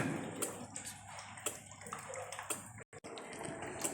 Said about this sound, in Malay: Air akan turun masuk dalam saluran ini